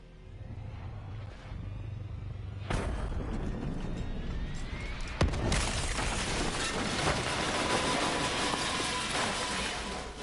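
Explosions in Call of Duty: Black Ops 3 zombies mode, two sharp loud blasts a few seconds apart followed by sustained rumbling, crackling debris and roaring noise with no talk.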